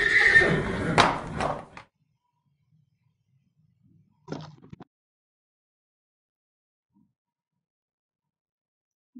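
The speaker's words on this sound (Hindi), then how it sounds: "घोड़ा एक पालतू जानवर है जो कि सवारी के पास आता है।" A horse neighs in a farm animal sound lesson, a loud shaky whinny in the first two seconds followed by a short quieter snort, then near silence.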